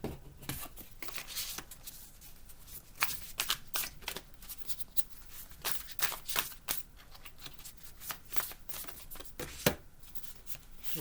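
Tarot cards are shuffled by hand in quick, repeated riffling bursts, close and fairly quiet, with no talking.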